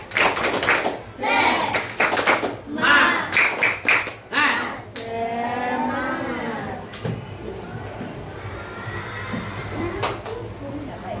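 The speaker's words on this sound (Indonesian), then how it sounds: "Buat semuanya tepuk semangat." Schoolchildren in a sixth-grade Islamic studies class perform the rhythmic spirit clap, bursts of sharp patterned clapping mixed with children's voices, followed by a long stretch of chattering children's voices close by.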